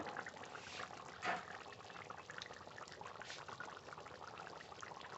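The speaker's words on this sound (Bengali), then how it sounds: "একটু জল দিয়ে গুলে নেব গরম মশলাটা" Water poured into a cooking pot to loosen garam masala for a chicken meat curry with potatoes, a steady low liquid pour and trickle with a brief splash partway through, fairly quiet.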